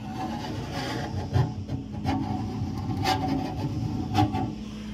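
A flat tip screwdriver scrapes plumber's putty off the edge of a kitchen sink strainer, producing a continuous close rubbing and grating with a few sharper scrapes.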